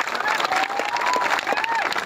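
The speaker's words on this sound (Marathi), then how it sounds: "एक बार आमच्या आया बहिणीसाठी एक बार जोरदार टाळ्या होऊन जाऊ द्या" A rally crowd applauds loudly and continuously, with a crowd din and a few whistles mixed in.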